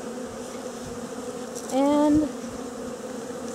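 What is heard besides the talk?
honeybees buzzing around a bee package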